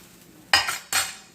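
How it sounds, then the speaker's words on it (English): Pancake flipped in a hot pan: two quick scraping, clattering hits of a spatula against the pan about half a second apart, each followed by a brief sizzle, close and clear over a faint background hiss. "I'm gonna flip my pancake"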